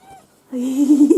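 A single short meow from a small kitten, close and fairly loud, rising in a drawn-out tone after a faint brief sound.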